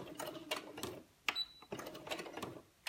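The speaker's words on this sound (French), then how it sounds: "Je vais faire un point en avant, deux points en avant. Après je vais retourner en arrière." A sewing machine stitches a wax-print fabric turban headband in short bursts, a few forward stitches and then reverse, close and fairly quiet with brief pauses between runs.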